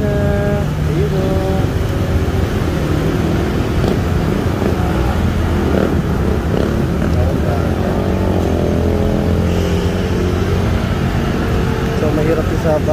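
Motorcycles push through deep flood water on a street in Malate, Manila, with a continuous engine drone, rushing water and wash, and excited voices of onlookers throughout.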